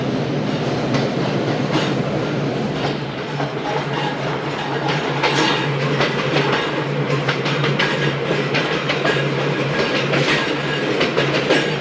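Shalimar Express passenger train running steadily on its rails, a loud continuous rumble with rhythmic clickety-clack of wheels over joints, no voices.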